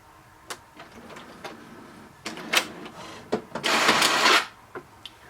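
HP Deskjet 3700 printer after its wireless buttons are held, clicking and ticking at close range, then a loud mechanical whir of about half a second, followed by a few more clicks.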